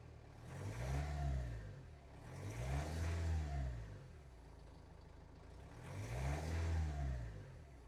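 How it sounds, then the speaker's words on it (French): A car engine, showing a warning light and a suspected air leak, revs up three times in slow swells, each rise climbing and falling back to idle, moderately close with no talk over it. "il monte dans les tours, ce qu'il ne faisait pas du tout"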